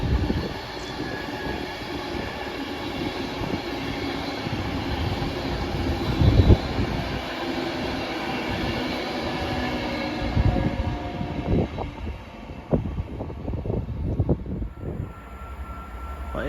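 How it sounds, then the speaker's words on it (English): An Avanti West Coast train bound for London Euston rumbles through Bletchley station with a sustained, loud roar, followed by clattering wheel clicks over the rail joints as the carriages pass close by. "there's another Avanti West Coast Pennsylvania going down to London Euston"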